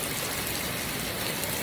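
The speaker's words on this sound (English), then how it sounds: "Praise the Lord for the rain." Steady rain pours down onto a back porch on a hot day, a dense continuous hiss close by with no pauses or voices.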